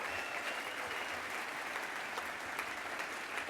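An audience at a party congress applauds steadily, a dense even wash of clapping hands from a large hall that stays level throughout, fairly quiet and distant.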